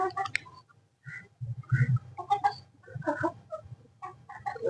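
A hen clucks in short, close bursts while pecking at feed, the soft calls coming in uneven groups with brief pauses between.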